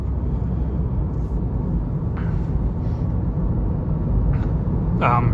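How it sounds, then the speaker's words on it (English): Steady low road rumble and wind noise fill the cabin of a moving 2015 Nissan Versa Note SR, with a few brief voices heard over it. "Road noise, wind noise is actually pretty good"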